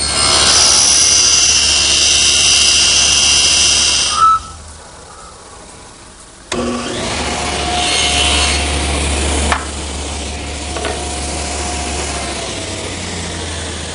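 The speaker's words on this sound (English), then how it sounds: "I've just set my saw at a 40-degree angle and ripped this piece of cove through" A table saw rips a cove profile in a 1x4 pine board with the blade tilted at 40 degrees, giving a loud, steady whine of the cut. It breaks off abruptly, then a quieter hum of the spinning blade continues.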